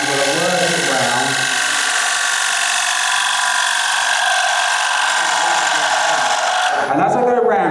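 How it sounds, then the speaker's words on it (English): A quarter-inch gouge cuts a curve in wood spinning on a lathe, giving a steady, loud, bright scraping hiss that runs unbroken, with the lathe's hum beneath and a voice at the start and end. "we're going to go in there now, once again with the 1/4 inch gouge, and we're going to carry that curve round"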